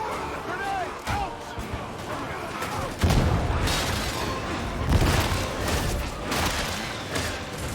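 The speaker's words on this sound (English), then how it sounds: "Grenade out!" Video game combat in Darktide with a Veteran sharpshooter: a heavy grenade blast lands around three seconds in, followed by rattling gunfire and further booms, loud and close, with shouted voices mixed in.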